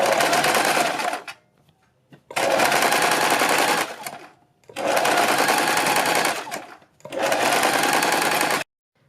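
Sewing machine stitching net fabric for a party-wear gown, running in four loud, rapid bursts separated by short silent pauses.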